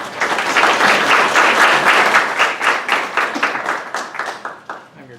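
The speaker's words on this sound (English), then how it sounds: "Please give her a big round of applause." An audience at a community business event gives a warm round of applause, dense clapping that thins into scattered claps toward the end with voices faintly underneath.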